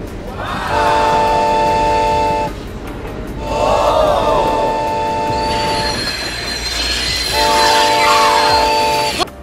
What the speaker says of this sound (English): How well can high-speed train handle a slope?